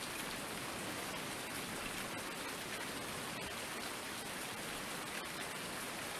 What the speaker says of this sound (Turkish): Yine yağmur yağıyor ya.